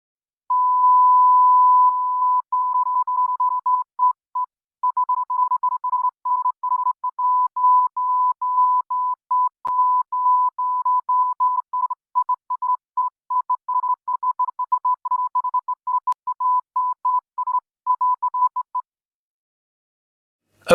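Morse code beeps from a song, a single steady tone pulsing in long and short bursts for nearly twenty seconds, clean and alone with no music or voices.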